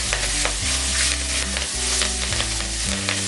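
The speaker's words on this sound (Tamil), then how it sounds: "1 கப்பு கருவேப்பிலை உருவி வச்சிருக்கிறேன், இப்போ அதையும் சேர்த்துக்கலாம். சேர்த்துட்டு நல்லா வறுத்துக்கலாம்." Curry leaves frying in hot oil in a pan while being stirred, giving a loud, continuous sizzle with scraping stir sounds, close up and without speech.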